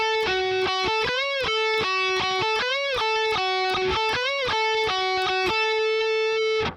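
Distorted electric guitar plays a lead line, quick picked notes with repeated upward bends, loud and alone without talk.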